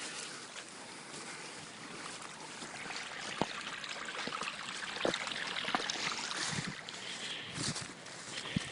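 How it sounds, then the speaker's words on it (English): Little brook being crossed on foot at a battlefield site, soft trickling and splashing water with scattered sharp clicks and footfalls, close and low in level. "We're going to cross this little brook here."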